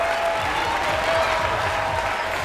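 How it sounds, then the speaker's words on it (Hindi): A stadium audience gives an Indian contingent steady, dense applause as it enters at the Commonwealth Games, a continuous wash of clapping with no breaks. "दर्शकों द्वारा जोरदार तालियों से उनका स्वागत।"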